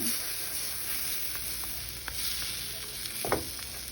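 Gözleme flatbread fries in a pan on lowered heat with a steady broad sizzle, and soft scraping and pressing at the edges stand out near the end.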